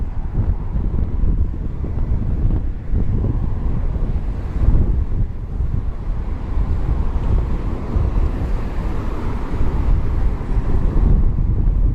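Heavy gusts of wind batter the microphone on a walk through Tokyo near the Meguro River, producing a continuous loud, low rumbling roar with no speech.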